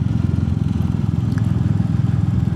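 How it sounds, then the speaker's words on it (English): A 20 HP retro motorcycle engine running steadily nearby, with an even, rapid low thumping pulse and no talk. "this bike has a very good sound"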